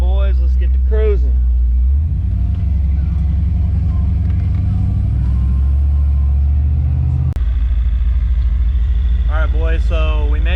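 A car engine cruising on the road, a steady low rumble that shifts in pitch partway through, with people talking over it at the start and end.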